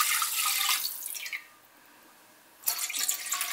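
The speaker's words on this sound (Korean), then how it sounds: "물 넣고" Water poured from a tap into a pot, heard close as a bright rushing stream that stops for about a second and then starts again.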